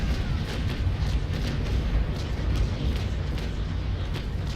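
Naval cannon broadside fire from the sailing-ship battle game Naval Action: a continuous, dense low rumble of overlapping booms with no clear gaps, moderately loud and with no talk.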